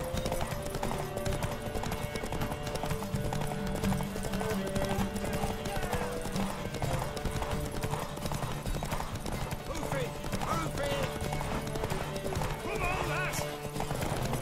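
Horse hooves clip-clop steadily through The Witcher 3, with occasional neighing, over a continuous bed of game music and ambience, while voices talk in the scene.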